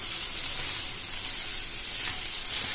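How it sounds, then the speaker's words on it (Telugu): Soya chunks (meal maker) fry in a little oil in a kadai, a continuous even sizzle that is fairly quiet and hissy, with no clear stirring strokes and no speech. "అందులో కొద్దిగా ఆయిల్ వేసుకొని తీసి పెట్టుకున్న మిల్ మేకర్ కూడా వేసి కలుపుకొని పెట్టుకోవాలి"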